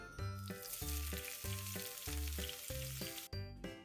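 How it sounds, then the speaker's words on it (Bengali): Shing fish fry in spice paste with a loud, steady sizzle as they are stirred, while a rhythmic tonal melody repeats underneath throughout. "মাছগুলোকে দিয়ে দিলাম মশলার মধ্যে এখন এটাকে ভালোভাবে মিক্স করার জন্য নেড়ে চেলে দিলাম"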